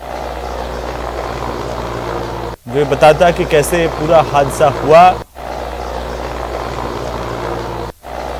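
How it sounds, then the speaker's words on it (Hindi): A steady low mechanical drone of a Mi-17 helicopter's rotor runs throughout, in bad weather, while someone speaks loudly over it in the middle. "इन्होंने भी जब हेलीकॉप्टर की आवाज सुनी तो उसकी तरफ देखा"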